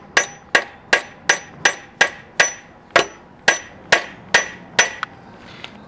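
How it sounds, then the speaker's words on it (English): Eleven sharp metallic hammer strikes land on a vehicle axle to loosen an old seized bolt, evenly paced at about two per second, close and loud, each ringing briefly before the next, then one lighter tap. "you might want to put something soft like a piece of wood between your hammer and the axle"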